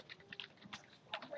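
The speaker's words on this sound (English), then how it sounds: "when you start writing the password, it won't show anything" Quiet, irregular keystrokes on a computer keyboard as a password is entered, with soft clicks and taps close by and no talk.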